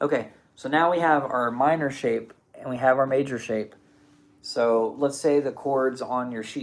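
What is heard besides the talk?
No distinct noise like a dog, phone or traffic.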